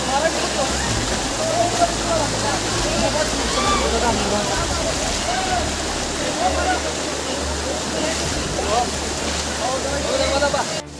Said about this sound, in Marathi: हाच येतो तो धबधबा जो ओढा